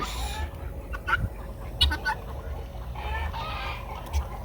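Chickens and roosters squawk and cluck in agitated bursts, some close and some farther off, over a low rumbling background.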